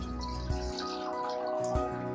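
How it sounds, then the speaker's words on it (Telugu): Water is poured into an empty cooking vessel in a kitchen for tomato rasam, a soft trickling splash running briefly over a low steady hum, with no voices. "ఓ గిన్నె, ఇందులో కాసిన నీళ్ళు పోద్దాం."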